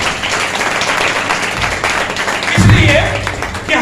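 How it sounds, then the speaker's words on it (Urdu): A congregation at a thanksgiving worship service in a home applauds, a steady mass of clapping that swells louder partway through, with a low thump and some voices mixed in. "میں چاہتا ہوں ان کی اس محبت کے لیے، خدا کے جلال کے لیے زوردار تالیاں بجائیں"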